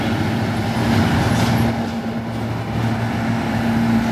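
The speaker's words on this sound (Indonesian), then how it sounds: "ini ada truk trailer panjang kontainer crossback, muatan sangat berat ya teman-teman, menanjak." A heavily loaded long container trailer truck climbs a steep uphill road, its engine a steady, loud low rumble with constant drone throughout.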